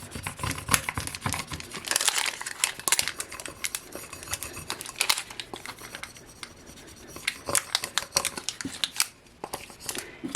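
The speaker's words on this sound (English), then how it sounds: "I'm going to take my little squeegee scrubby and just rub the design" A squeegee scrubby rubs vinyl transfer tape onto a cup in quick, papery scraping strokes that come in uneven bursts, close up and fairly quiet.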